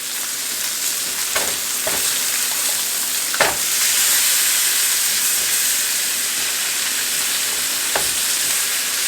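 T-bone steak sizzling on a grill with a steady bright hiss, broken by a few sharp crackles and pops as it cooks; no talking.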